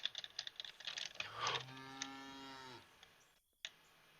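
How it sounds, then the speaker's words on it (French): Cows in the Zoo Cleaner video game give one clear, sustained moo lasting over a second, preceded by soft clicking key taps and followed by a brief quiet gap and another short tap. "C'est des vaches."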